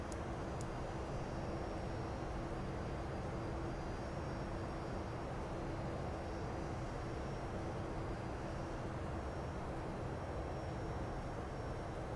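Steady, continuous aircraft engine drone with a constant hum inside the X-Plane 11 flight simulator as the plane prepares to land, unchanging and fairly loud throughout.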